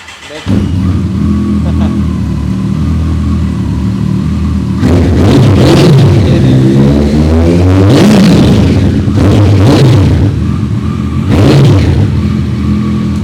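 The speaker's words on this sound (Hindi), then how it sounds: "ये परफॉर्मेंस एग्जॉस्ट है, तो ये बहुत प्यारी और एक बेसी साउंड प्रोड्यूस करता है।" A superbike with a performance exhaust idles with a deep, bassy note, then revs up several times in quick throaty bursts, loud and close.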